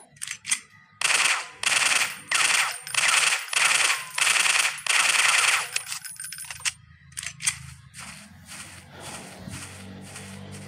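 Rapid automatic gunfire from a dino hunting shooting video game, several loud sustained bursts in a steady rhythm, followed by quieter clicks and clatter.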